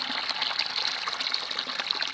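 Water gushes and splashes steadily into a container at a fishpond, a close, continuous pour with no talking over it.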